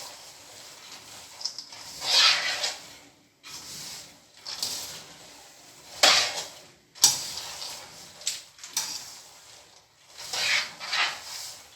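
Groundnuts being stirred in a pot while roasting give off repeated scraping, rustling sweeps, each lasting a second or so with short pauses between, close and fairly soft.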